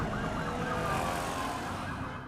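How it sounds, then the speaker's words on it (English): Emergency sirens wail steadily through a city in The Last of Us TV series, set in Jakarta in 2003, a continuous rising and falling tone that stays loud and fairly close without any talking. "you can already hear sirens starting"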